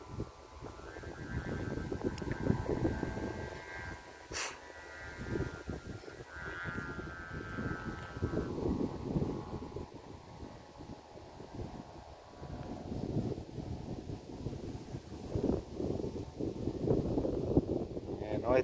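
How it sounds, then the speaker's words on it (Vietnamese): Strong wind buffets a microphone at a kite-flying field, producing continuous loud rumbling gusts, with people talking and a brief whistling tone in the middle. "Còn ở đây gió quá tốt."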